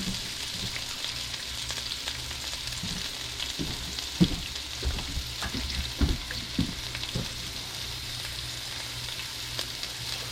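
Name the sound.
vegetables frying in a pan for deer heart fajitas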